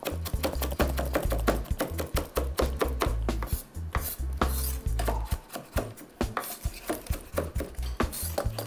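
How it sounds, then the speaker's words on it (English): Jerk chicken seasoning ingredients being chopped and mashed on a board, a fast run of close, sharp knife strikes with thuds and clatters, busy and uneven throughout. "You chop all of this. Just chop it, mash it up."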